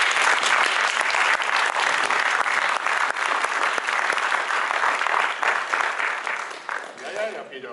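Sustained audience applause welcoming Sam McCracken at a Native tribal health promotion event, dense and steady for several seconds before thinning out near the end.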